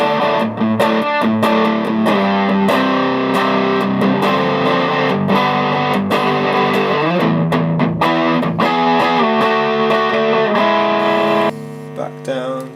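Heavily overdriven electric guitar through a Kelley Oxblood Overdrive pedal, high gain, bridge pickup, playing thick, sustained chords and riffs, loud and close, with a brief quieter tail at the end.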